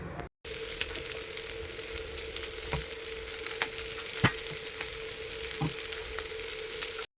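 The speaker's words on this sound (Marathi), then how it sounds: "त्यासाठी मी त्याला थोडंसं परतून घेतलेलं आहे आणि नंतर कांदा त्यामध्ये घातलेला आहे" Crushed peanuts and onion sauté in hot oil with cumin and mustard seeds, a steady close sizzle with faint crackles and a few spoon scrapes against the pan.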